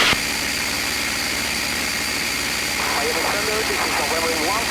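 P-51 Mustang warbird in flight, a steady, loud engine drone with a continuous hum filling the cabin as people talk over it.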